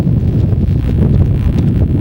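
Wind gusting across an outdoor high school baseball field on a blustery day, a steady low rumbling buffet against the microphone with no pauses and no voices.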